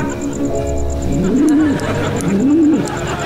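Pigeon cooing in a live-action superhero comedy scene, two rising-and-falling coos close by over a steady background hum, with a voice briefly audible.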